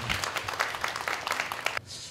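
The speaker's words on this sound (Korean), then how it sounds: "제가 박수 한번 쳐주시죠" Applause from an audience at a Korean public forum event, a dense burst of clapping that runs steadily for about two seconds, then cuts off abruptly.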